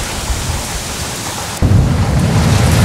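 A dangerous line of thunderstorms over Austria brings steady heavy rain, then a sudden close, loud thunder rumble that swells and lingers over the downpour.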